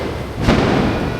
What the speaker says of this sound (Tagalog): Kaya fireworks pala dito.